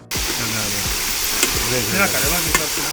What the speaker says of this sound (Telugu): ఇందాక పచ్చిమిరపకాయల పేస్ట్ చేసుకుందాం కదా అది ఇప్పుడు వేసుకుందాం